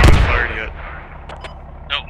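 Mortar fire in the military shooter game Squad during a large US Army assault in Afghanistan: one heavy boom at the start fading into a rumbling tail, then a few fainter distant thumps, with no talk.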